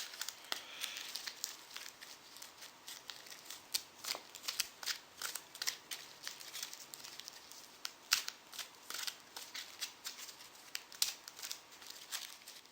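Rapid riffling of playing cards being shuffled over and over, crisp papery bursts in quick succession, close up with no voices.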